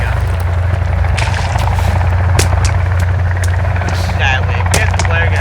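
A helicopter hovers in the survival game Sons of the Forest, its rotor drone low and continuous throughout, loud and close, with sharp clicks and thumps scattered over it.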